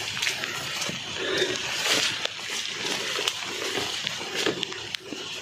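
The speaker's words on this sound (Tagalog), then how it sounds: "So malakas ang tubig, naririnig ko." Strong rush of irrigation water flowing through a channel near a dam beside a vegetable field, a steady broadband roar with faint splashes throughout.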